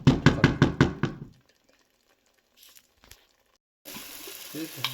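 Tomato masala cooks in a pan: a quick run of rhythmic knocks, then near silence, then a steady sizzling hiss toward the end.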